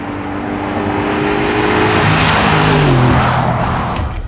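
A Mercedes G63 with a 5.5-litre biturbo V8 accelerates hard, its loud continuous engine roar rising in pitch and staying close and strong throughout with no talk.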